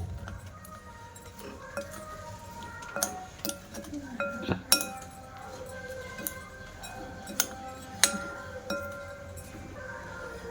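A spoon stirs ground spices, turmeric and roasted spice powder, into green chilli pickle in a bowl, giving a run of clinks and scrapes against the dish in an irregular rhythm, close and fairly quiet.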